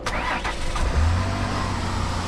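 A car engine with a water pump fault cranks briefly, catches and settles into a loud, steady idle close by.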